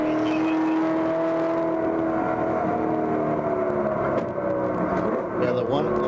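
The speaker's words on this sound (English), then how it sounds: "I'll turn up the volume a little bit so you can hear the engine." On-board sound from a 1970 Ford Mustang race car in an endurance race at Harris Hill Raceway, its engine a steady loud harmonic drone that holds a sustained pitch throughout, with a brief dip near the end.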